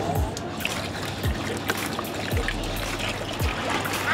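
Water poured from a container into a paneer jilebi batter mixture, a continuous trickling splash with a few soft low knocks, close by and steady throughout.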